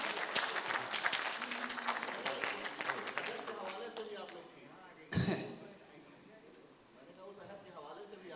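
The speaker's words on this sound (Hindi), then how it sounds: "तो गालिब टीम के लिए एक बार ज़ोरदार ताली बजाएं।" Audience applause at a Bait Baazi verse-contest event in Lucknow, a dense clapping burst for the Ghalib team that thins out, then a sharp thump, with murmuring and voices from the crowd.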